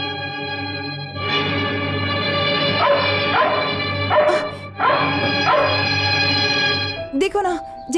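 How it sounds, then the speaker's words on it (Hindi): A dog barks repeatedly at a person it doesn't know, in several bursts of loud, close yips and woofs set against a droning film score, with a short voice at the end. "वैसे ही ये कुत्ता मुझे देखकर भौंक रहा है"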